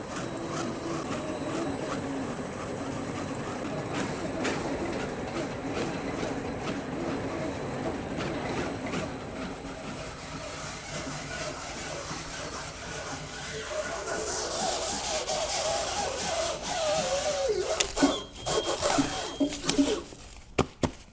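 A Handle It Model 1100 stretch wrapper runs its carriage through a wrapping cycle: a continuous mechanical hum and rumble with a faint steady whine, building toward the end into rattles and clunks.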